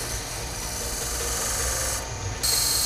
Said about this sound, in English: I use a combing tool. It's actually a thread cutting tool, but it makes such fine ridges that I use it for a combing tool.